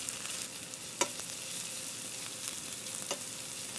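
Garlic and onions sizzle steadily in a hot pan, a soft continuous frying hiss with a couple of faint clicks of a utensil against the pan, no voices.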